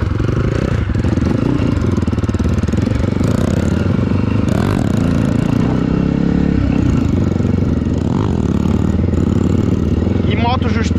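A Honda CG motorcycle set up for trail riding, freshly fitted with new brakes and bearings, runs with a steady engine drone and clattering over rough ground, while people talk nearby throughout.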